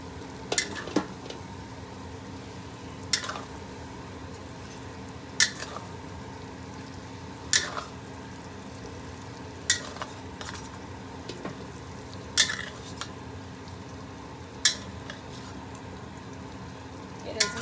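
Sausage stuffing with bread sizzling in a hot pan, heard as a steady soft frying hiss broken by sharp clinks of a spoon stirring and scraping every couple of seconds.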